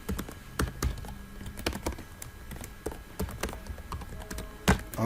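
An email address being typed on a computer keyboard, with irregular bursts of crisp key clicks and occasional heavier taps, close and clear with no talking.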